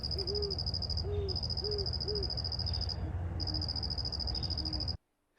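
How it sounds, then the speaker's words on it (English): Great horned owls hooting at dusk near a remote eastern Oregon cabin: several repeated soft hoots in short groups, steady and moderately close, set over a continuous chorus of high insect trilling and low background hum. "To our surprise, when we got back to the cabin, 3 great horned owls were waiting for"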